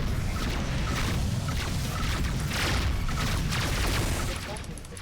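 Missile blasts rumble through a space combat battle in Rebel Galaxy as a dense, continuous, loud roar of booms and crackling impacts that eases off near the end, with a voice speaking over it.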